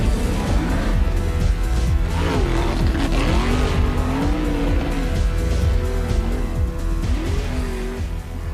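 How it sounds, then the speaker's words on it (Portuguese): Powerful 4x4 hill-climb racing machines of up to 800 horsepower, bare engines on four wheels with a protective cage, scrambling up an 80-degree slope: loud, continuous revving engine roar with rising and falling pitch throughout, no talk. "pilotos competem entre si em subidas de 80 graus em veículos 4x4 de até 800 cavalos"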